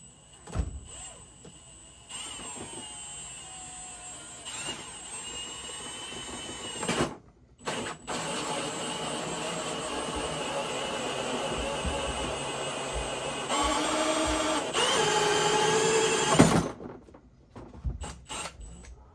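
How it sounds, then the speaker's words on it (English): A drill spins a 2-inch hole saw through the plastic of a Ridgid box, a steady whirring grind that runs for many seconds with brief pauses and stops, close and loud with no voices. "take a 2-inch hole saw"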